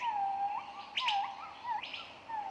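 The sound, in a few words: budgies chirping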